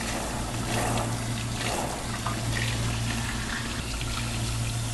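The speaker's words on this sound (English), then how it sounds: "proper water pressure ensures that you have completely rinsed out all of the chemicals" Running water at a salon sink rinsing hair color out of a woman's hair, a steady close pouring and splashing with a low pump-like hum underneath, with no talking.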